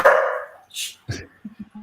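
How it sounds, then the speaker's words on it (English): Dogs in a home bark during a live online broadcast: one sharp bark, then a few shorter yips and woofs in quick succession, close and moderately loud. "And there are the dogs."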